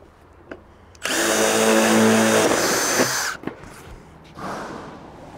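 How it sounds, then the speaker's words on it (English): A power tool firing a rivet into barge capping on a metal gable roof, a loud whirring burst of about two seconds followed by a sharp click and a softer trailing whir, close by. "I'll just pop a rivet in here."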